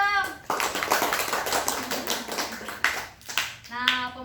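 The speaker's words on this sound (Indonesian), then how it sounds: "Tepuk tangan dulu dong." Children at a school fire-safety lesson clap together in a short burst of uneven, fairly soft hand claps, with voices speaking before and after the clapping.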